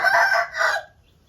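A champion Aseel rooster gives one loud, close crow in two rising-and-falling parts, lasting under a second, then fades to quiet.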